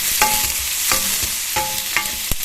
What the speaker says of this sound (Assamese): আৰু এই তেলখিনিতে এতিয়া মই দি দিম পিঁয়াজ, কাটি থোৱা পিঁয়াজখিনি। পিঁয়াজখিনি দি এনেকৈ অলপ দেৰি লৰাব লাগিব।